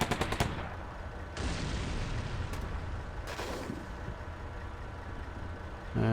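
Anti-tank missile striking a BMP in the Combat Mission video game, a quick crackle of sharp shots followed by a sudden loud impact and a sustained roar with further bursts.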